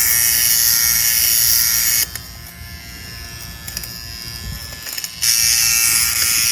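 An electric fabric shaver buzzing loudly against linen-type part-polyester fabric to remove pills, the hum dropping lower for a few seconds in the middle as the blades bite into the cloth, then returning to full pitch.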